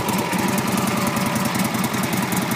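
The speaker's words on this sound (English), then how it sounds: "As you can see, the motorcycle runs very well." A restored 1947 Harley-Davidson FL Knucklehead motorcycle engine runs steadily at a lumpy idle, its rapid, even pulses loud and close with no talking.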